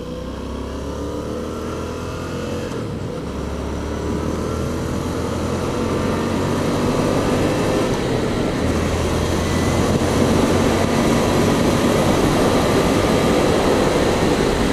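A steady Yamaha FZ-07 motorcycle engine drones loudly and continuously, its low rumble rising slightly in pitch and intensity partway through.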